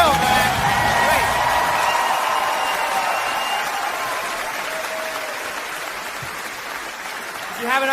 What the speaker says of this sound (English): round of applause for Bill